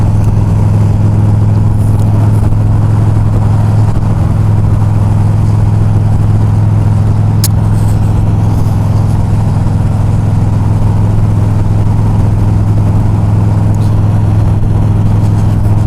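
A car cruising on the 710 freeway in Los Angeles, a loud, steady low engine and road drone that holds constant throughout with no talking.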